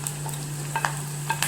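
Garlic, ginger, green chillies, fenugreek and curry leaves sizzling in hot oil as they are stirred in a pan, a steady close crackle with a low hum underneath and a few light utensil scrapes.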